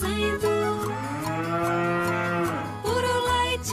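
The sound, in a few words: cow mooing in Roblox video game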